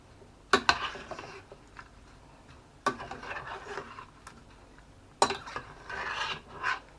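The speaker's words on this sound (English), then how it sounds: "And I'm just going to stir that in" A utensil stirs cauliflower leaves, chopped stalk and broccoli florets in a pan for cauliflower cheese pizza pie, in three separate scraping, rasping bursts with short quiet gaps between them.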